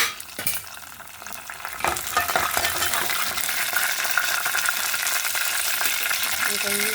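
Mustard seeds frying in hot oil as the start of a foxtail millet upma: a steady, close crackling sizzle with scattered popping and occasional stirring clinks, continuous throughout.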